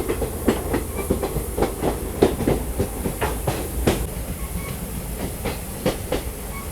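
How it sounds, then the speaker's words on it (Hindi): The Tinsukia Bangalore Express runs over the tracks through the Barak Valley in monsoon weather, with a steady clickety-clack of wheels over rail joints under a constant hissing rumble heard from aboard the moving train. "अपनी ट्रेन यहाँ पर घूम रही है।"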